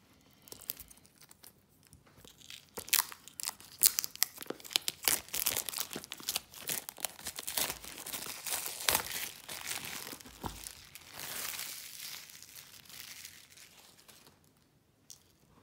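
Plastic and paper packaging on an oracle card deck boxed with 36 cards and a 112-page book crinkles and tears as it is opened, a long run of close, soft crackling and rustling bursts with no talk.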